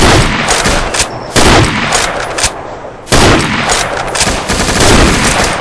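Automatic gunfire sprayed in the Combat Arms shooter game: loud, rapid bursts of shots in two or three long volleys with brief gaps between them.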